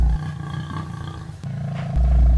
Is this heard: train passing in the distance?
no